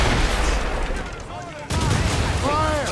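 Ship cannons fire during a naval battle in Assassin's Creed Rogue, a loud booming volley with rumbling tails and a second blast midway, while a voice shouts over the gunfire.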